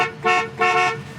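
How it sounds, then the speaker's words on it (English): A 1974 Oldsmobile 442 car horn sounds two short, loud, close honks in quick succession. "Horn works."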